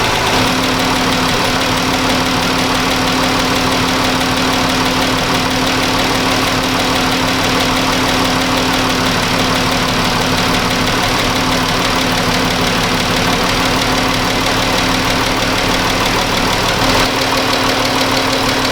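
A Chrysler 200 with an overheating problem idles steadily while warming up, a loud, continuous engine drone with a constant low hum and faint knocking texture, heard up close with no voices.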